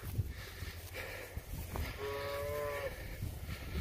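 A cow that calved the day before lets out a single drawn-out moo in a pasture, moderately distant, over faint outdoor background noise.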